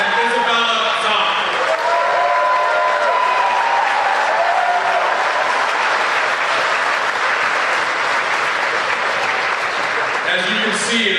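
A graduation ceremony audience applauds in a dense, sustained wash of clapping that holds loud and steady throughout, with crowd murmur and scattered cheers beneath.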